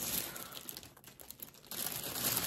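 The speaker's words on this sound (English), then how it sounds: "let me get these back in the bag because I know the crinkling drives you nuts" Sealable plastic bags crinkle and rustle close by as items are packed back into them, an irregular run of crackling bursts with a brief lull in the middle and no speech.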